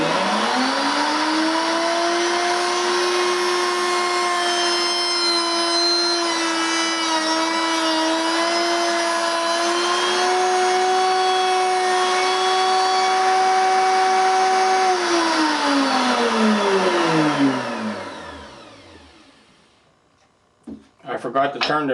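A router fitted with a 1/4 inch slot cutting bit cuts a groove in a segmented bowl piece. Its loud, steady high whine holds for about fifteen seconds, then winds down to silence before a few brief knocks.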